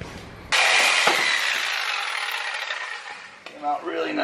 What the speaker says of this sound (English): considering I had to use a sawzall